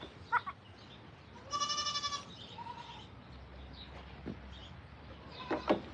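A billy goat lets out a loud, drawn-out bleat, followed by a few shorter, quieter calls outdoors.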